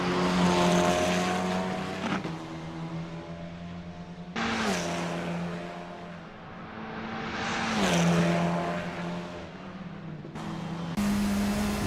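Formula 4 race car lapping Bathurst in Assetto Corsa, a loud high engine whine climbing and dropping through gear shifts, with sharp changes in pitch as the car accelerates and brakes.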